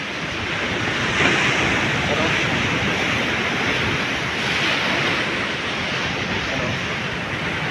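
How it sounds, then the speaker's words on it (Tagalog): Ocean surf rumbles and washes continuously near Sulangan lighthouse, with big waves and wind buffeting the microphone, while someone talks over the roar. "Malaki na mga alon dito guys."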